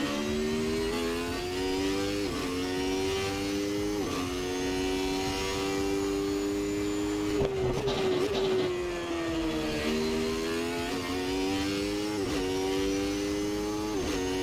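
The engine of a McLaren MP4/8 Formula One car in the Assetto Corsa racing game drones steadily through a lap, its pitch climbing and dropping with gear changes and one brief dip in the middle.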